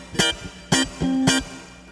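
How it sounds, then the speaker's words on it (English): An HSS electric guitar played on its rear single-coil pickup strikes three bright, thin chords, one every half second or so, the last one ringing out a little longer, alone and up close. "as opposed to the rear pickup, which would sound like this."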